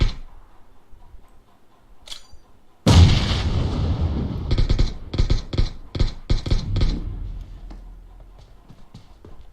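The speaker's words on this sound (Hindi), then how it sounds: "गोली चला।" Gunfire in the mobile battle royale game PUBG Mobile: after a quiet lull, a sudden loud blast gives way to a rapid string of sharp shots in bursts that fade toward the end.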